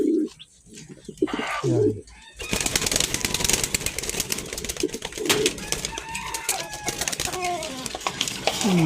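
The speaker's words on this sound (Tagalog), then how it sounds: "Tapos pairin din natin yung mga kalapate." Pigeons coo repeatedly with a few bird calls and wing sounds mixed in, fairly close, while a person talks briefly near the start over steady background noise.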